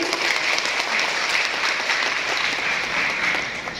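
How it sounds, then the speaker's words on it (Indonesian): Audience of selected teacher participants at an Indonesian upskilling and reskilling training ceremony applauds steadily and loudly throughout, a dense continuous clapping that eases slightly at the end. "Tepuk tangan Bapak Ibu."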